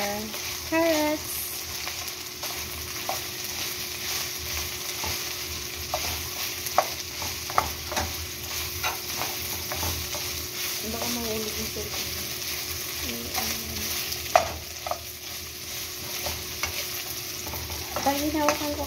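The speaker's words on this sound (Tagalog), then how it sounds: "Mixing. until the chicken become brown." Chicken pieces being stirred in a frying pan until browned, part of the ingredients for bejon: a steady oily sizzle runs throughout, punctuated by irregular scraping strokes of the utensil, close up and with no talking.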